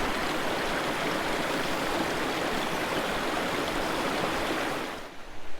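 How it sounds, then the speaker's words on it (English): Water in a Lapland stream rushes steadily over rocks outdoors, a loud, continuous broadband flow that stops abruptly near the end. "Listen to this sound of the water."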